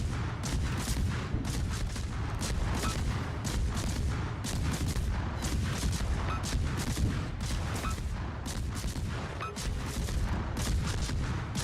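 World of Warships warship shells firing and ricocheting, a dense, loud barrage of booming gunfire bursts in rapid irregular succession, continuous throughout with no talk over it.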